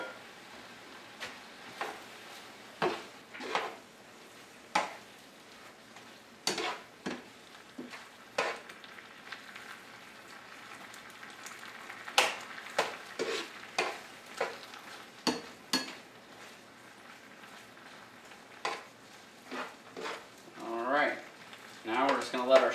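Shrimp simmer and stir-fry in a thickening sweet and sour sauce with noodles, giving sparse sizzles, spatula scrapes and clinks over a quiet background.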